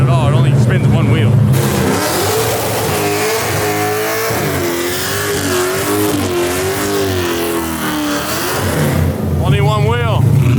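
A 700hp supercharged LS-swapped Nissan Skyline doing a burnout at a track, its engine revving hard and holding high for several seconds, then rising again near the end, loud and close, with people talking over it.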